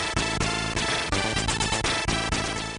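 Three-voice 8-bit game music from a SID chip, with melody, bass line and rhythm track playing at once as a loud, dense, buzzy chiptune with steady rhythmic pulses.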